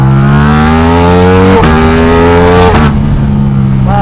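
A Ducati Diavel V4 with a Termignoni exhaust revs hard and close, its pitch climbing and then dropping sharply twice in loud, rising engine sweeps.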